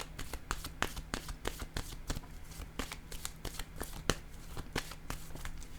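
Close-up shuffling of tarot cards, rapid papery flicks and taps repeating in an uneven rhythm over a low steady hum, with no speech.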